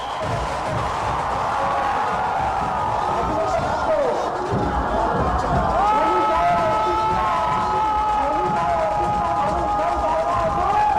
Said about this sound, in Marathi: भक्तांची गर्दी आहे आणि याच गर्दीतना अलोट गर्दीतना भक्तांचं प्रेम स्वीकारत राजाची मिरवणूक हळूहळू पुढे जाते